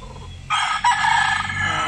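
A rooster crows loudly and close by behind a house on a small farm, one long drawn-out call, over a low background murmur of other fowl.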